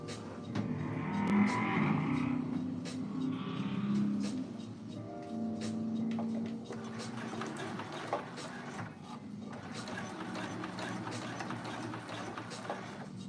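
A pedal-operated sewing machine runs while basting down fabric, its motor whirring steadily and close for the whole stretch, with no talk over it.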